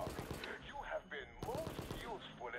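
Gunfire in the video game Resident Evil: Operation Raccoon City comes as rapid bursts of shots under game voices and sound effects, with a sharp cut partway through.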